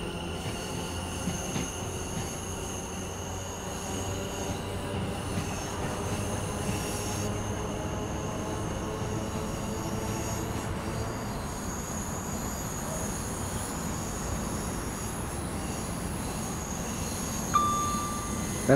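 An electric passenger train on the Suffragette line in Train Sim World 5 runs along with a steady rumble, sustained wheel squeal and tonal motor whine, ending with a short clank.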